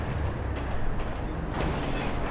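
A train rumbling past in GTA 5: a steady, dense roar with faint rattling, continuous and fairly loud throughout.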